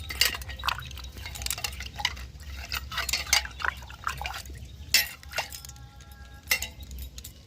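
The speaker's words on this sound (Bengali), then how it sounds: "হাতটাকে ধুয়ে নেব।" Hands are washed in a small amount of water, giving light splashes, drips and trickles in short, uneven bursts with occasional faint clinks, close by and fairly quiet.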